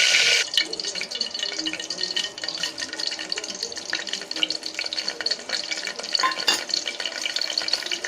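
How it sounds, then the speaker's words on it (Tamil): Spices tempering in hot oil and ghee in a pan for chana biryani, a steady dense sizzle and crackle with scattered sharp pops throughout, close and fairly loud, no talking. "இப்போ தாளிக்க வேண்டிய பொருளாக சேர்த்துக்கலாம்."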